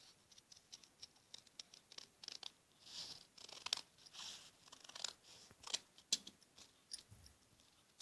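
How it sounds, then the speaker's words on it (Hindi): Scissors cutting a 1-inch-wide strip of fabric along a curved line, a close, faint series of crisp snipping and crunching strokes in an uneven rhythm, with no talking. "गोलाई करके पट्टी को ऐसे 1 इंच चौड़ी काट लेते हैं"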